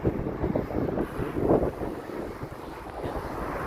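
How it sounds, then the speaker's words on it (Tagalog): Wind buffets the microphone in a steady low rumble with gusty swells at Katara Beach, by open water, while cycling. "Lamig naman ang hangin."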